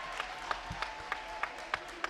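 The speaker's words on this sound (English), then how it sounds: "Connor Hayes clapping it up" Crowd applause in a high school boys basketball gym, Robbinsville Ravens at Nottingham Northstars, heard as faint, distant clapping with a regular beat of sharper claps rising above a murmuring crowd.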